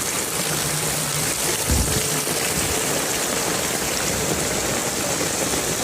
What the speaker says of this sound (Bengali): দেখেন এই কি পরিমাণ বৃষ্টি হইতেছে